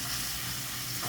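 Vegetables stir-fry in a little cooking oil in a pan, giving a steady, close sizzle and crackle with no talking.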